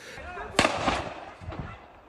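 Fireworks thrown during street clashes in Jerusalem go off as sharp crackling bursts, a loud pop followed by a second burst and fainter crackles further off.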